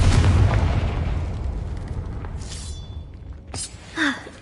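Confringo blasting spell cast in Hogwarts Legacy, inside a cave: a loud, close explosion with a long rumbling decay, followed by a few fainter pops and crackles as it fades.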